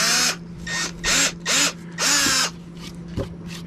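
A drill press bores a hole in wood for a threaded metal tenon mortise, giving five loud whirring bursts that start and stop in an uneven rhythm over a steady motor hum, with no talking.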